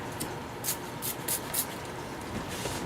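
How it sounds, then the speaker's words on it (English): Several short hissing spray bursts from a spray bottle of soapy water onto vinyl, spaced irregularly over a quiet background hiss. "this is a bottle of spray stuff that's just basically soapy water"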